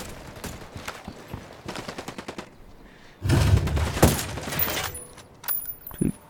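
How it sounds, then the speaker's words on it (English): Gunfire from a shooter in Ghost Recon Wildlands, a co-op video game session: scattered shots early on, then a loud, sustained burst of automatic fire at mid-clip, followed by a few sharp closer shots. "That's right where that guy's shooting."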